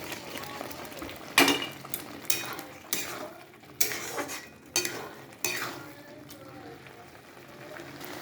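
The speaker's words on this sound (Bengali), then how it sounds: "এবার পনিরটা ছেড়ে দিচ্ছি।" Paneer goes into wilted spinach in a pan, followed by several rhythmic scraping strokes of a spoon against the pan over a low sizzle, each stroke with a clear clatter.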